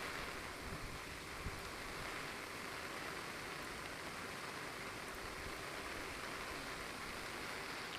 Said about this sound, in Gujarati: ગામમાંથી ધસમસતો વરસાદી પાણીનો પ્રવાહ જોઈ શકાય છે